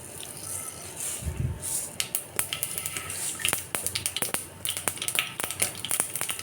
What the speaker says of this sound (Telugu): ఆయిల్ వేడెక్కింది, అందులో ఆవాలు వేద్దాం.